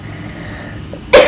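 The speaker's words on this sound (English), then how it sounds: "I told you I've got a cough." A single sharp, loud cough bursts out near the end after a stretch of quiet background hum, close to the microphone, from someone at a flight simulator setup.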